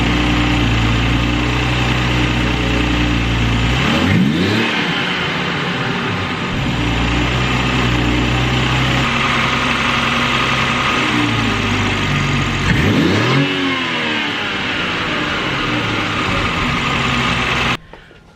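A Toyota Supra engine with a newly fitted intake runs loudly and steadily up close, rising in two sharp revs with a flutter as the throttle drops back, then cuts off abruptly near the end.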